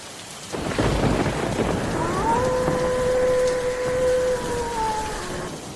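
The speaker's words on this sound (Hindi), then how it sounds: "आसमान में बिजली कड़कती रही और ज़ोर ज़ोर से बारिश पड़ती थी।" Rumbling thunder and heavy, steady rain pour down together, loud and continuous, with a faint tonal drone rising over the downpour midway.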